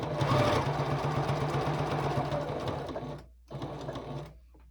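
A sewing machine stitches binding onto a gingerbread star table topper in a close, continuous whir that falters and stops briefly, then starts again and trails off as the bobbin thread runs out.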